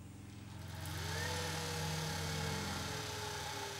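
An unloaded Open Revolt-controlled DC motor on a test bench turns slowly, giving off a steady electric hum with faint whining tones that rise and shift as it runs. No one speaks.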